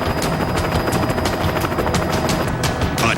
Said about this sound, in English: TV news helicopter covering the event crashes to the ground.